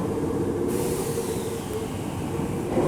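An electric train of the Toyohashi Railway Atsumi Line departs Mikawa-Tahara Station, rolling steadily with a constant low rumble and faint hum of wheels on rails, close by, with no voices.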